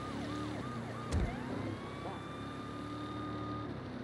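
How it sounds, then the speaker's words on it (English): A wailing Saints Row police siren sweeps up and down, fairly subdued and mixed under other engine-like noise, with a brief thump partway through. "or the siren of a police car that's turned right down in the mix"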